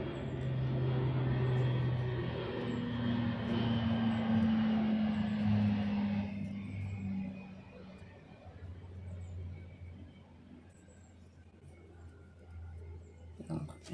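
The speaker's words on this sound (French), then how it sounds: "J'habite à côté de la base. Donc du coup, il y a beaucoup d'avions qui passent." Airplanes pass over a home beside an air base, a loud droning engine roar that fades after several seconds into a distant rumble with faint room sounds.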